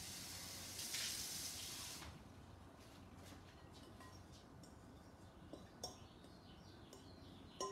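Hot water runs from a kitchen tap while pasta dough is mixed by hand, a brief louder gush early on settling into a steady faint hiss with a few light clinks, no talking.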